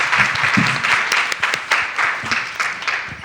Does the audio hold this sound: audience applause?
yes